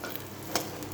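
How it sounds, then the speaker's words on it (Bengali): Eggplant slices sizzle and crackle in a frying pan, a soft, steady hiss close by with one brief, brighter spatter burst partway through. "বেগুনগুলো ভাজা হয়ে গেছে"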